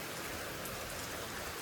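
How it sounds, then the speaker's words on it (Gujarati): Rain falling outside a home, a steady even hiss of drops with no pauses, moderately close and without any voices. "વરસાદ તો ફરીથી ચાલુ થયું"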